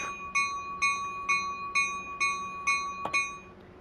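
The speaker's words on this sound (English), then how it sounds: "But the bell does move." A locomotive bell in Train Sim World 5 rings about eight times at a steady, even pace, each clear metallic strike ringing on, with a quiet cab hum underneath.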